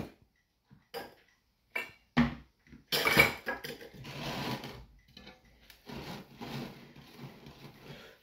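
Cake batter being slowly mixed in a bowl, with scraping and clinking of a utensil against the bowl in uneven bursts, louder and more continuous toward the middle and end.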